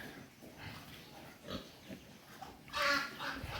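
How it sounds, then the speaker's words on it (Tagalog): Native sow on an organic pig farm grunting in a few short, soft bursts close by, with a louder grunt near the end over quiet farm background. "Ito naman yung ating first na inahing native."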